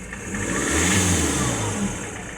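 A Jaguar X-Type 2.0 diesel with a no-power fault and a suspected seized turbo linkage is revved up and held, its engine note rising into a loud, steady roar before easing off, with no speech.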